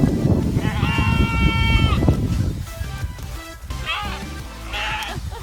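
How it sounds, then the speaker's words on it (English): Sheep bleating during a walk in a mining village area of Oaxaca, Mexico, with several harmonic bleats close by over steady outdoor noise and movement. "How's walking sheep, Katie?"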